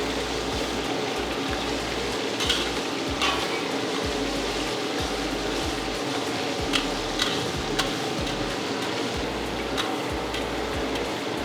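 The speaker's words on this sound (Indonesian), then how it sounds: "Kita tumis sampai benar-benar wangi dan kecoklatan." Aromatics stir-fried in a pan, a steady broadband sizzle with irregular spatula taps and scrapes against the metal, close and moderately loud throughout.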